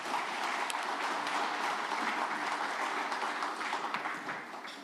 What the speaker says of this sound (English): Another round of applause for Doc Moyo.